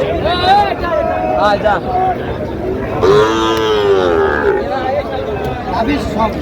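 Sahiwal bull calves and other cattle at a crowded livestock market in Dhaka, lowing in a few drawn-out moos, the strongest one in the middle, close by amid steady crowd chatter and people talking.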